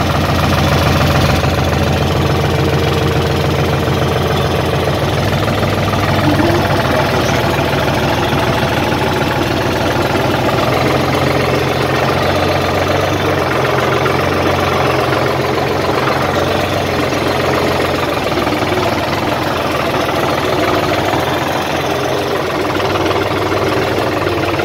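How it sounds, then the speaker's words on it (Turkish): A tractor engine runs steadily at idle, close and loud, a continuous low knocking rumble with constant vibration and no talk over it, near pistachio trees. "traktörümüz çalışıyor"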